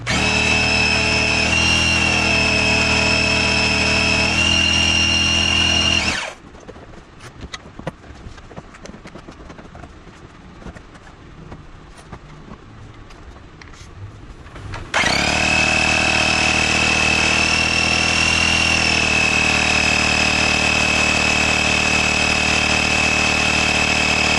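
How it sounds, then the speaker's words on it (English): A pump inflates a new Tannus tire on a Lectric XP 1.0 ST e-bike with a steady loud mechanical whir. The whir stops for a stretch of quiet handling noise in the middle, then starts again and runs to the end. "So while I pump this up, I'm not going to pump it up all the way."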